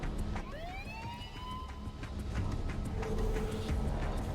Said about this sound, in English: There's obviously a police siren thing going on there.